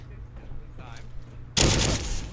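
Gunfire in Fallout 4, with a long, rapid automatic burst erupting loudly after a quieter stretch of low game ambience and holding sustained to the end.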